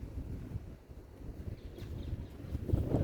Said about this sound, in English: It's a bit windy, but it's okay.